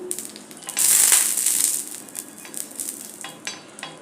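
Oil is worked over a new cast iron tawa with a scraping, sizzling rasp that swells loudly early on, then settles into lighter intermittent scrubbing and clinks, close up with no talking.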